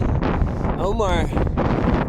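Loud wind rumbling across the microphone, with a voice speaking briefly through the gusts.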